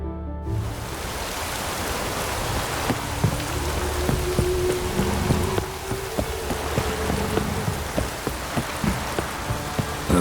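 Steady rain pours down in The Witcher 3 video game, a dense continuous hiss with scattered sharp drop taps and a faint low tone partway through, with no speech.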